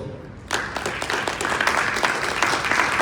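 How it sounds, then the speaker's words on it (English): Audience applause in a gym at a youth empowerment program gathering, breaking out suddenly after a brief quiet and continuing as a dense, steady clatter of many hands. "give him a round of applause"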